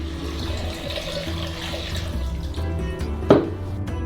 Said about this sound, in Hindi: एक कटोरे में गर्म पानी डालें।